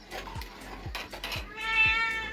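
Tuktuki, a pet cat, meows clearly several times up close in a quiet indoor room, with soft clinks and knocks of dishes around the calls.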